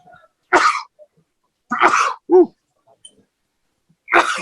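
Three sharp sneezes spaced apart, each a sudden loud burst of breath, close to the listener with quiet between them.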